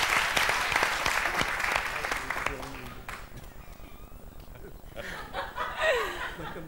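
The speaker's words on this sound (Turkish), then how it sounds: "Evet, alkış ayol." A studio audience on the 2005 Turkish TV game show Passaparola claps briskly for a few seconds. The applause fades as chuckles and laughter come in, and people start talking.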